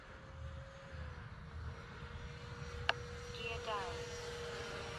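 A Freewing F-16 70mm electric ducted-fan model jet cruising overhead, a faint, distant, steady whine with a thin sustained tone over soft outdoor rumble and a sharp click midway.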